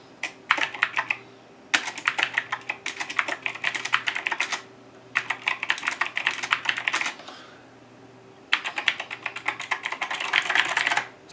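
Bursts of rapid typing on a restored Cherry mechanical keyboard, crisp clacky keystrokes in several runs separated by short pauses, recorded up close.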